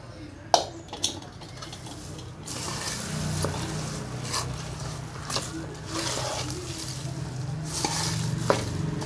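Gongura leaves stirred in a hot pan for a pulihora gongura chutney, with a steady close sizzle and frying hiss broken by scraping strokes and a few light knocks of the spoon against the pan.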